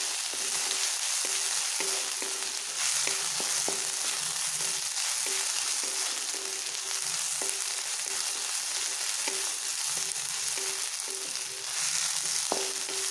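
Steady sizzling of stale chapati khurma frying with mustard seeds in a pan, with intermittent scraping and clinks of stirring over the continuous hiss.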